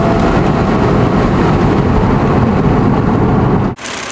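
A 2007 Hyundai Entourage engine pulling under acceleration, a loud, steady broadband roar held close up before cutting off abruptly near the end.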